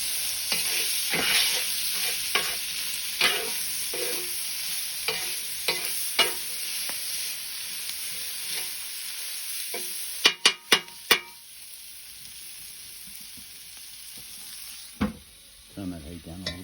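Beef, prawn and vegetable stir fry cooking on a Weber barbecue, a loud bright sizzle with a regular run of scraping stirs, then a few sharp metallic clanks as the frying carries on.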